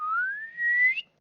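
A pot whistles on the boil in a tabletop game session, a single steady tone that rises in pitch over about a second, close and fairly loud, then cuts off abruptly.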